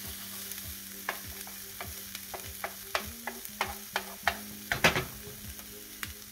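Onions and potatoes frying in a pan, a soft steady sizzle punctuated by repeated stirring scrapes and taps that grow louder and quicker toward the end, close and without talk.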